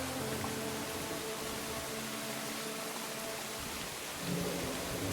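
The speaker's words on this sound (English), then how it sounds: "Thunderclap. Window unlatched and opened. Rain gets louder." Video game audio from Who's Who? The Incident at Galley House: continuous rain and a low, rolling thunder rumble, with the rain swelling louder toward the end as a window opens.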